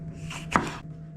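A knife cuts through an onion on a board, slicing it into rings: a single crisp, close chop with a brief crunch, quiet room hum around it.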